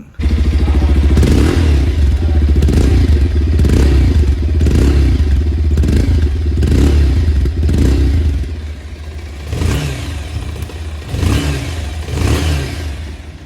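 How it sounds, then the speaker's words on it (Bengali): A 2026 Bajaj Pulsar 180 motorcycle engine idles loudly up close, then revs in several rising throttle bursts with a throaty exhaust note. "এবারের এক্সস্ট সাউন্ড কেমন তা একবার আপনারা শুনে নিন"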